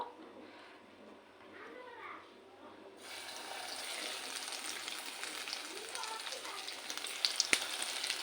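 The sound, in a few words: brinjal slices frying in hot oil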